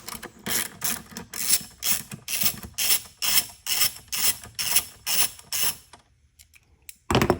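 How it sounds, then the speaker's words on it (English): Quick clicking bursts from a 1/4 inch ratchet with a 10mm socket loosening a bolt on a 2024 Mustang during an air intake install, about a dozen short strokes in steady rhythm, close up, then a pause and one final burst. "10mm socket with your 1/4 inch ratchet, and remove this bolt right here, this 10mm bolt"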